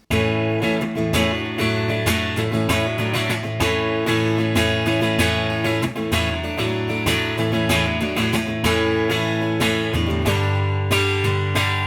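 Electric guitar plays continuously through a Laney LC30 mk1 amp at about 5 channel volume, lower gain, with a fairly clean, full tone, chords and notes ringing out loud and close with no talking.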